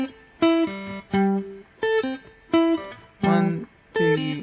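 Guitar part of a song played without the third string, a sequence of plucked notes and chords in a steady rhythm, each ringing briefly before the next, close and clear with no talking.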